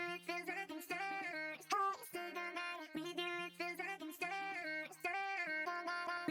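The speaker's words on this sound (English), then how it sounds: "the last thing I added to the melody was this vocal chop. I also threw some shaper box on there" Chopped vocal sample in a beat melody, processed with a ShaperBox Motion Rhythmer 2 preset, giving short pitched syllables that are rhythmically gated and stuttered in a repeating pattern, played alone at low level.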